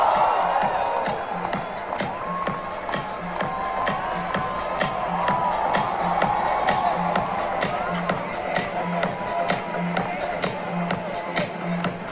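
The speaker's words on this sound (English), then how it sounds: "Big round of applause." Crowd at a walking-awareness event cheering and clapping as actress Shilpa Shetty is welcomed on stage: continuous loud applause with whoops and excited crowd chatter, plus a steady low hum.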